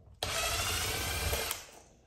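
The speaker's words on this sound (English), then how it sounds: "I have my drill right here" A cordless power drill runs at a steady whine for about a second and a quarter while removing a receptacle from a commercial four-square electrical box, close up and loud, then spins down.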